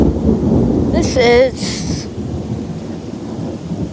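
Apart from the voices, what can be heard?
thunder during a big storm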